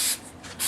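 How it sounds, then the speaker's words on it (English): Cleaner sprayed onto the brake rotor of a 1997 BMW 528i E39 during a brake pad job: two close, loud aerosol bursts of hiss separated by a brief softer spray, all under a second. "So I'm just going to spray that down"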